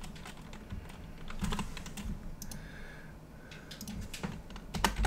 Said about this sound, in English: I don't type these keys very often